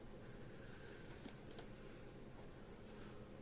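Quiet, rapid clicking of a computer keyboard as a command is typed on an old Red Hat Linux system, a short run of keystrokes with a couple of sharper taps, faint and close.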